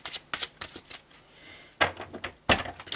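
Tarot de Marseille cards are shuffled in quick riffling bursts, close and crisp, with short pauses between flurries and two louder riffles near the end.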